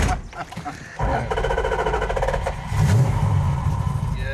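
A 1972 Dodge Charger with a 400 Magnum V8 and four-speed cranks and catches about a second in, then settles into a steady, close, rumbling idle that swells louder near the end.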